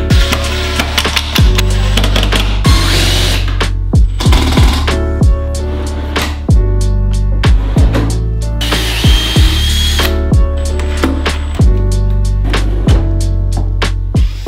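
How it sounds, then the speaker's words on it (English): A power drill whirs in repeated short bursts, driving screws into wooden drawers from the inside, with brief pauses and clicks between each run, loud and close. "I'm going to go ahead and add screws from the inside of my top drawers here"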